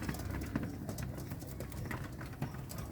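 Pigeons coo in soft, low murmurs while being fed corn, a dense overlapping burble with faint pecking and shuffling close by.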